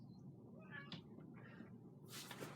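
A house cat meows faintly a few times outside a closed room door, trying to get in, over a steady low hum of room noise.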